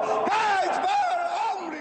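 Parliament members in Iran stand and chant "Death to America" together, a loud, dense crowd of raised voices with rhythmic swells, sustained throughout at close range.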